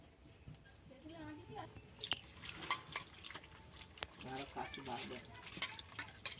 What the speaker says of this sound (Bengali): পুরো দুবার তিনবার করে ধুয়ে নেব